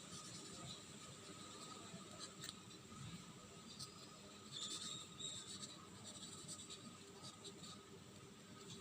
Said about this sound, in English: First write the number 2.